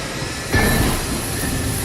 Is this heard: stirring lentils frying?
no